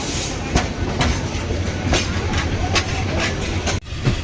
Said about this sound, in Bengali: আমাদের ট্রেন জয়পুরহাট রেলওয়ে স্টেশন ছেড়ে এখন শান্তাহারের দিকে অগ্রসর হচ্ছে